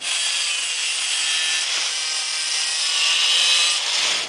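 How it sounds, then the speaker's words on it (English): A grinder cuts through a hose on the engine of a Nissan 300ZX with a naturally aspirated engine, a steady, loud, bright abrasive hiss running unbroken for about four seconds before cutting off. "grind off this hose, keep the bracket so it spaces out the AAC properly"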